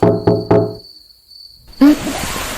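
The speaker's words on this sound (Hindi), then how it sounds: "मैं नॉक करता हूं।" Three quick raps on a window ring out in an even rhythm, close and loud, followed by a pause and then a muffled rustling noise.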